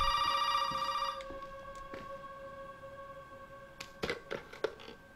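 An old telephone rings in the Resident Evil 7 teaser demo. One loud electronic ring opens the clip and fades away, followed by a few faint knocks and soft clicks.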